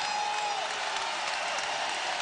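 A crowd at a women's college basketball championship game between the Lady Bears and Indiana State claps steadily, a soft, even wash of applause with no voices standing out.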